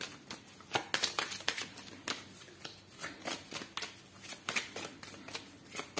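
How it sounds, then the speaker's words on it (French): A deck of oracle cards is shuffled by hand in a steady run of crisp riffling slaps and flutters, close up, repeating for several seconds without speech. "Je vais battre un peu les cartes"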